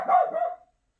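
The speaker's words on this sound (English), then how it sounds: "You'll have to forgive Willow for barking" A single loud dog bark rings out nearby, then stops, leaving silence.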